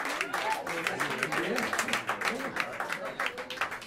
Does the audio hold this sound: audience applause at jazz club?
yes